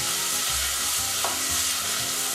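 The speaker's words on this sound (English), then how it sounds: "And you stir that medium-high heat" Diced red pepper and onion cooking over medium-high heat for homemade tomato sauce: a dense, even sizzle with a few soft stirring scrapes, close and continuous, no voices.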